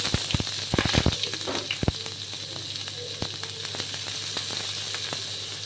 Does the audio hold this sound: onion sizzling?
yes